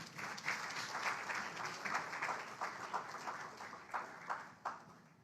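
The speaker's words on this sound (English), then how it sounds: "Let us applaud the 5Cs" Audience applause at a regional CARICOM anniversary gathering for the 5Cs, a steady moderate patter of clapping with soft swells, rising and falling across the stretch without talk.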